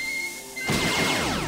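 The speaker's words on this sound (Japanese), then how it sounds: "あ、この爆発もめっちゃ強いんだな。" A burst of game sound effects erupts from an explosion attack in the mobile game Monster Strike, a sudden bright crash following a steady tone and then a sustained, loud rumbling blast.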